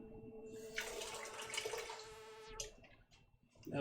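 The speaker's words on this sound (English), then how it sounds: "Not quite enough water, just a little bit more." Water is poured into a starch mixture to make oobleck, a close splashing pour that runs for a couple of seconds, thins to trickles and ends with a brief final splash.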